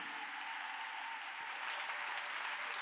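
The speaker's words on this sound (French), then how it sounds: "on se tient debout et on acclame le Seigneur Jésus" A church congregation on its feet applauding in worship during a pastor's sermon, dense sustained clapping from many hands filling the room at even loudness, with no clear speech over it.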